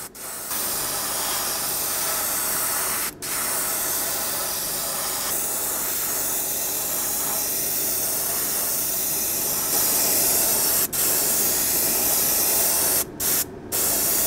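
Primer is sprayed onto a handmade wooden fishing lure in long, loud, continuous hissing bursts, broken by a few brief pauses and a short double stop near the end, with no talking.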